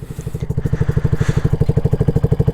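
2007 Honda FTR 223 single-cylinder motorcycle idles nearby, a steady loud chugging pulse with even rhythmic beats and no speech.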